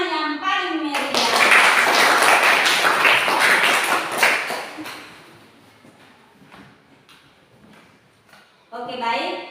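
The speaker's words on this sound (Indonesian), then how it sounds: "Kita kembalikan kelompok 2 ke tempat dengan tepuk tangan yang paling meriah" A classroom of Indonesian schoolchildren gives a student group a lively round of clapping, a dense burst of many hands that swells for several seconds and then tapers off, with a voice briefly heard at either end.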